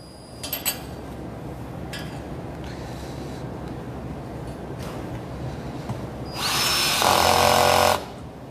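Hilti power tool driving a blunt-tip screw to fasten a disc onto steel, a steady whirring run that rises into a louder, higher drilling burst for about a second near the end before cutting off.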